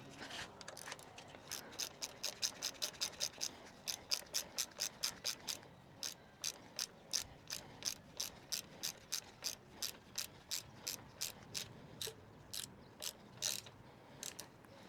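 A wrench ratchets while tightening the bolt of a Redshift suspension bicycle stem, giving a long series of crisp, close clicks that start fast and dense, then settle into a slower, regular rhythm.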